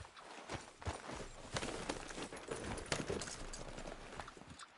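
A horse's hooves clip-clop at a walking pace in Red Dead Redemption 2, with a steady rhythm of soft close thuds on the ground, faint, with no talk.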